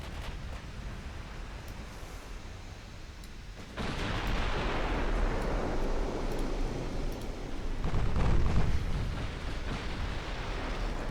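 Torpedo hits and explosions in a naval battle video game, a continuous rumbling wash that swells into a louder blast partway through and surges again near the end, with no talk.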